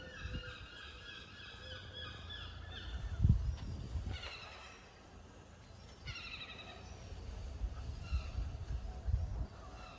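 A flock of seagulls calling repeatedly over open ground, faint and distant, their laughing cries rising in clusters over a low wind-like rumble with occasional nearby thumps.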